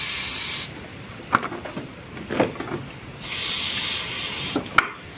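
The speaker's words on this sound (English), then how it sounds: "I like to use the WD-40 whatever I have, a grommet and also connectors." An aerosol can of WD-40 sprays onto car wiring connectors and a grommet on an Alfa Romeo 33 1.7 16V, with two sustained close hissing bursts separated by quieter handling clicks and rustling.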